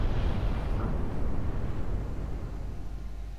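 A deep rumbling blast from a naval gun salvo or shell explosion in the warship game Ultimate Admiral Dreadnoughts, loud and booming at first, then fading into a long low roar.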